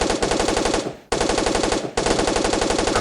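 Rapid, loud automatic SMG fire in the game Cops N Robbers, two long bursts of evenly spaced shots broken by a brief pause near the one-second mark.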